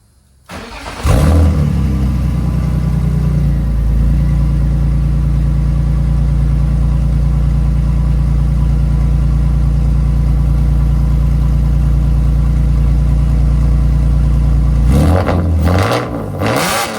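A drift car engine with new headers cranks and catches for its first start after tuning, then roars into a loud, sustained rumbling rev held for many seconds before dropping off, with a rattly burst at the end.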